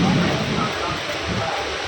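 Steady rain pours down in a dense, even hiss, fairly loud and close throughout.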